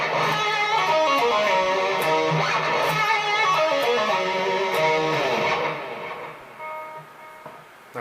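An electric guitar plays a solo lick from a song, a quick run of sustained distorted notes up the neck ending on a held tone that rings out and fades.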